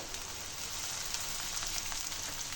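Cauliflower, peas and curry leaves sautéing in hot oil for a masala fry, giving a steady close sizzle with crackling throughout and no talk.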